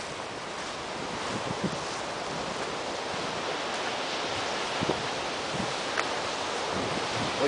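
Rough, agitated sea surging on a cold, windy shore, a steady broad roar of surf with occasional louder wave breaks, alone with no voices.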